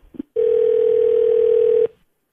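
A steady telephone dial tone sounds loud and alone for about a second and a half, preceded by a couple of soft clicks as a call is placed.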